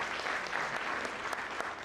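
An audience at the launch of national clinical guidelines for common mental disorders claps steadily throughout, a dense patter of applause at moderate volume with no voices over it.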